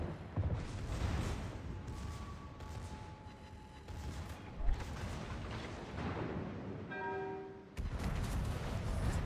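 Naval guns booming in a World of Warships naval battle, several broadband blasts spread across the stretch with a dense rumbling battle bed, a brief tonal interface beep near the end, no talking.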